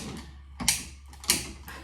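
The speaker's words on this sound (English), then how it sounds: "I'm at the oven and I'm gonna turn it on to medium heat" An oven knob turns to medium heat with two sharp mechanical clicks about half a second apart, faint ratcheting and creaking between them in a quiet kitchen.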